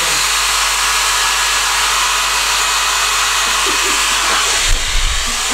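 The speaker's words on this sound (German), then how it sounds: "du kriegst den Föhn" A hair dryer blows in a steady, loud hiss throughout, with a few brief knocks and rustles near the end.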